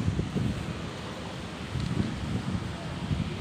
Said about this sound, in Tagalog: Pero ang sarap ng hangin